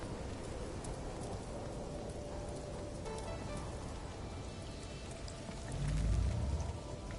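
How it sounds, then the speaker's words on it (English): Steady rain hisses through a storm in the video game No Man's Sky, an even wash of drops with a soft low rumble swelling briefly near the end. "Weather update. Storm clearing."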